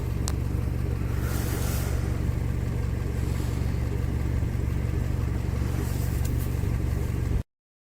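A gasoline car engine with a knock, worn and close to failing, running close by with a loud, steady, low droning rumble for several seconds before cutting off abruptly, with no talking.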